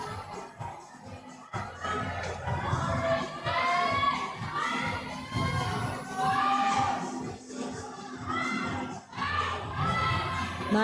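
A crowd cheers and shouts continuously at the CRANK 2024 bouldering competition qualification, a loud, busy wash of voices that swells in waves and dips briefly near the end.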